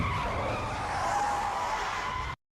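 A car's tires skid and squeal loudly for about two seconds as it is forced to a stop on a road, running low on fuel, then the sound cuts off abruptly.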